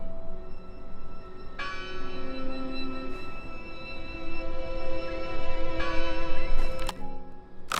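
Wind-swung bell in Draugen rings out in several clear, resonant strikes at irregular intervals, each tone lingering and overlapping the next over a breezy, rumbling outdoor ambience.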